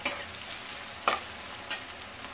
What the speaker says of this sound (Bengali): তাহলে এর মধ্যে আমি সামান্য লবণ দিয়ে দিলাম, পেঁয়াজটা আর কি ভালো করে ভাজা হয়ে যাবে তাড়াতাড়ি